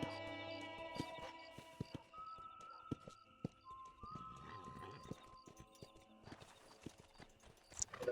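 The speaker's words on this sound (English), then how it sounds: "este es el caballo que viene" Horse hooves clip-clop steadily toward the listener in the Western game Red Dead Redemption, a rhythmic trotting beat over ambient music and effects, with a brief whinny and scattered background sounds.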